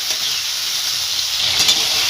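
Salted, turmeric-coated prawns sizzle steadily in hot oil, a continuous bright frying hiss that swells slightly near the end, close and alone with no talk.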